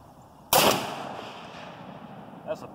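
A single loud Tanfoglio Thor .308 rifle shot cracks sharply and close, then trails off in a long, fading outdoor echo, with a faint distant thump following about two seconds later.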